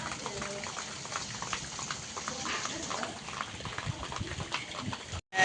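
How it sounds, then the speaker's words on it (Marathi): Heavy monsoon rain pours down on a Konkan village during the first rains of May. A dense, steady roar of downpour fills the whole stretch without letup, loud and close, before a brief drop-out near the end. "खतरनाक पाऊस पडतो एकदम."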